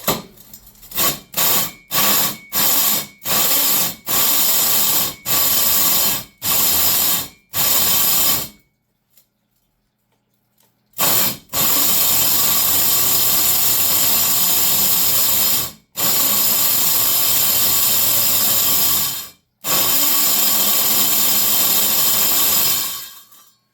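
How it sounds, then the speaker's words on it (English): A hammer drill bores during a mini split air conditioner install, running in short loud bursts of rattling percussion, then a longer sustained run broken by brief stops. "I'm going to switch this to a hammer drill"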